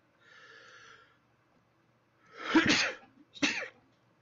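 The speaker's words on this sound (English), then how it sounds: "why am I sneezing?" A sharp, noisy burst like a sneeze, followed quickly by a second shorter one, loud and close, after a faint breathy sound.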